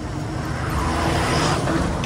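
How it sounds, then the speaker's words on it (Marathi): A truck speeds along an empty road near Mahabaleshwar, its close engine roar and tyre rumble swelling loud and steady for a couple of seconds. "बघा ट्रक किती जोरात चाललाय"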